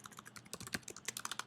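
Rapid, quiet clicking of a computer keyboard as someone types at a steady, uneven pace, close but faint and with no voice.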